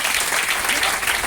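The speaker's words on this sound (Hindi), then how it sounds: "तो जुनू भैया के लिए जबरदस्त ताली।" Dense, steady applause from a meeting audience fills the room, loud and continuous without pause.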